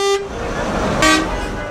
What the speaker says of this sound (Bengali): গাড়ির হর্ন